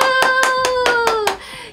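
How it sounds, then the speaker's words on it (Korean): Close, crisp hand claps, about seven in a quick even rhythm, sound over a sustained tone before stopping. "박수!"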